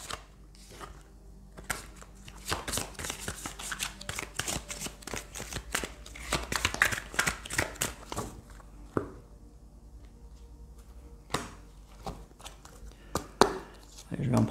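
Angel oracle cards being shuffled by hand, a steady run of crisp riffling flutters and soft slaps that come in quick bursts with short pauses, close and moderately loud, with brief low-level talk in places.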